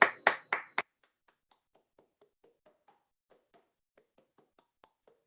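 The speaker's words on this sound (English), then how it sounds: "Well-deserved applause." A small group clapping briefly at a talk show, four loud close hand claps in quick succession, then a faint scatter of light isolated taps trailing off into near silence.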